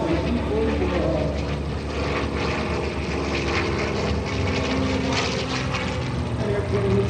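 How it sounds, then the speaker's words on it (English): A World War II P-40 Warhawk propeller fighter makes a photo pass at the Westmoreland County airshow, its engine a steady loud drone throughout with a broad rushing roar and faint crowd noise beneath. "beautiful side-to-side shot of the P-40 Warhawk"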